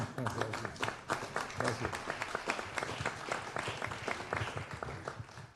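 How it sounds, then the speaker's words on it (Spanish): An audience at a tribute event for a Zapatoca coffee brand in Colombia breaks into applause, a steady, fairly quiet patter of many hands clapping with no talk over it. "yo creo que un aplauso para usted y doña Gloria por este buen homenaje."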